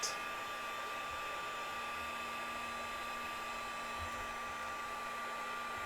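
A heat tool blows steadily to set glitter on a donut-shaped craft tag, producing a constant whirring hum with a high tonal whine, close and alone for the whole stretch.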